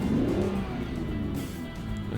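A 12V71T two-stroke diesel engine pulls a truck in American Truck Simulator, a loud, steady, low drone that rises slightly as it revs and runs alone without voices.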